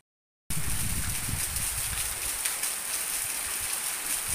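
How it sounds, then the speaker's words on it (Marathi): Heavy rain falls steadily outside during the monsoon, a dense, even hiss of drops starting abruptly after a brief silence and holding constant throughout, with no voices. "बाहेर खूप पाऊस पडतो।"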